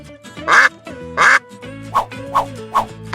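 A duck quacks six times in a close, loud series, two long nasal calls followed by four shorter, evenly spaced quacks, with no speech over them.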